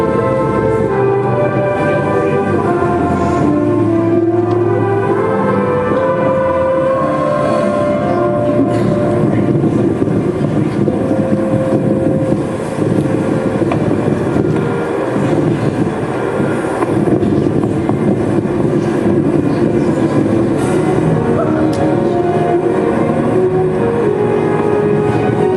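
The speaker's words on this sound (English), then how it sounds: "South Dakota, and this tornado is about to go right over the top." A tornado in South Dakota passing right overhead, a loud, continuous, rumbling roar with wind buffeting the microphone, steady for nearly half a minute.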